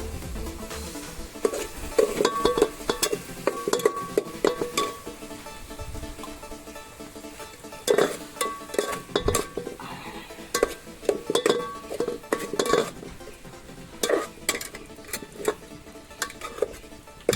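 A spatula clinks and scrapes in a pan as an onion and tomato chutney fries, with irregular metallic knocks and scraping strokes over a soft background hiss, close by and moderately loud, outdoors in a garden.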